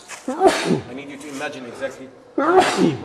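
A single sharp human sneeze in a tour-guide setting at Luxor, loud and close, set between stretches of someone speaking.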